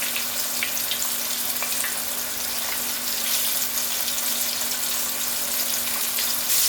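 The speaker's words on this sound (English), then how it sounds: "Just gonna grab a few pieces of the chicken, toss it in here" Dredged chicken pieces fry in hot oil with a steady, close, dense sizzle and crackle throughout, and no talking.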